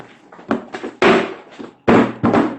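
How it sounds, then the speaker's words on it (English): Several heavy thuds and bangs land at irregular intervals, close and loud, like objects or doors being slammed during an argument, with faint quieter knocks between them. "why are you slamming things?"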